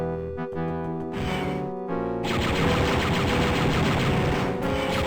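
Blaster gunfire in Star Wars: Dark Forces, a dense, continuous rapid-fire barrage of shots after a brief tonal intro, loud and sustained with no talk.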